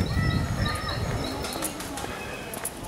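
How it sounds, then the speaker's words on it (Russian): Pigeons coo softly in the background amid a low rumble and scattered bird calls, with some voices murmuring nearby. "Да, здесь голуби находятся."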